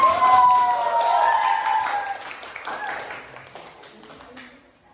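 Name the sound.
applause for group 4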